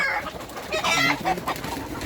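Sonali-breed hens and roosters cluck together at close range in a short, busy burst of overlapping calls.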